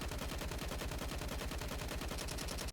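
Rapid automatic gunfire in the video game Counter-Strike 2, a dense, loud, continuous burst of evenly spaced shots lasting nearly three seconds before cutting off abruptly.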